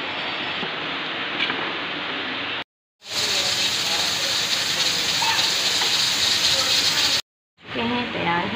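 Steady, loud steam hiss from a pressure cooker cooking soaked black chickpeas, a continuous rushing whistle broken by two brief silent gaps.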